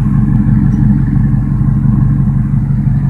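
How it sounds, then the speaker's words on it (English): A 1998 Ford Expedition engine with a Flowmaster exhaust rumbles deep and steady up close, a loud continuous low drone with little variation, heard alone without voices. "It's got the Flowmaster exhaust system on it."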